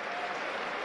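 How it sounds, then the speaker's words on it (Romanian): Dinamo supporters applaud a substituted player during a Romanian Liga 1 football match against Juventus Bucuresti, giving a short burst of dense, steady clapping from the stands. "Iese Salomão de pe teren, aplaudat de galeria lui Dinamo"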